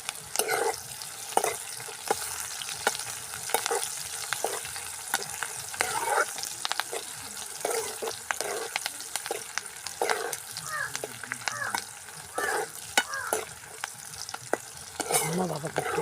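Steady crackling sizzle of food frying in a pan for egg aviyal, with intermittent clinks and scrapes of stirring throughout, close and continuous with no talking.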